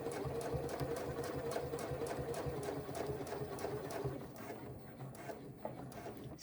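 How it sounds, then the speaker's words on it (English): A sewing machine stitches a crossbody bag with a steady, fast rhythmic whirring chatter of the needle. It runs continuously for several seconds, then slows and eases off near the end. "sew back down to meet up with our original stitch line"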